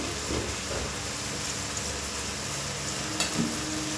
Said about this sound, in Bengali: পনিরগুলোকে দিয়ে দিচ্ছি।